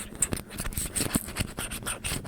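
Close, crisp scratching of fingernails over the surface of a fidget cube, in quick irregular strokes with no talking.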